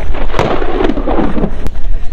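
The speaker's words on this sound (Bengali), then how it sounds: "আকাশের অবস্থা খুবই খারাপ, বড় বড় সব বজ্রপাত।" Loud, close rumbling thunder in a storm over an open river sandbar, a heavy roll with sharp cracks building over a couple of seconds amid wind and rain noise.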